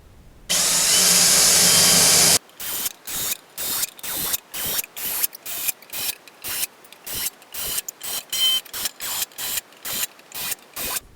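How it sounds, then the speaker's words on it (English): A long steady burst of broadband machine noise, then many short rhythmic bursts of a center drill starting holes in repeated quick pulses, close and fairly loud. "This is called a center drill. It's specially designed to start holes and not wander."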